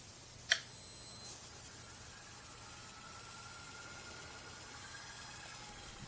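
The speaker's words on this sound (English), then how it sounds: "Just gonna pick it up and hover, and it's supposed to be easy." A belt-drive Airwolf R/C helicopter spools up with a sharp start, then a thin, steady high whine as it lifts off and hovers, moderately loud and fairly close, with no talk.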